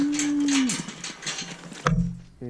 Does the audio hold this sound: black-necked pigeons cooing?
no